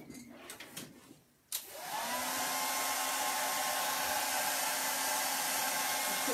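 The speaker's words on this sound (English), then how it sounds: "So I'm just going to get my hairdryer again." A hairdryer is switched on to dry paint on a stamped and stenciled craft project. After a few soft handling noises it starts with a click and then runs as a loud, steady whooshing hum with no talking.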